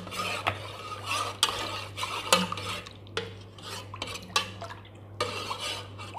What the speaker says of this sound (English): Mix po muna natin itong custard sa tubig.